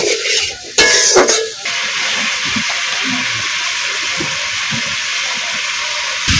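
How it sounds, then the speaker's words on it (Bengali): Potato and papaya sizzle steadily in a hot pan. Near the start there is a brief clatter of a utensil against the pan, then the frying goes on evenly and close, with no talking. "ভালো করে ভেজে নিয়েছি"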